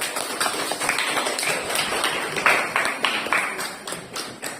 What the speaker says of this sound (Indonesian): Tepuk tangan dulu untuk anggota kelompok 2.